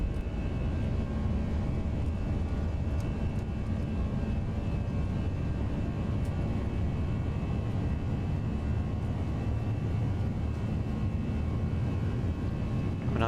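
Airbus A320 engines at takeoff power in the X-Plane 11 flight simulator, a loud, constant, broadband roar holding steady throughout with no voices.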